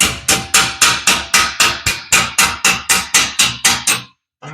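A hammer beating sheet metal to shape the bottom corners of a 1941 Ford 2-ton truck cab, about fifteen sharp ringing blows in a fast, even rhythm, close and loud, then a stop.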